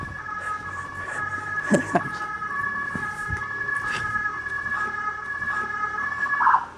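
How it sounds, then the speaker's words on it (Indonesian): An ambulance siren wails continuously in a tense emergency scene, a steady two-tone whine running throughout with a few thumps and knocks beneath it, swelling louder near the end. "Ambulans udah datang belum?"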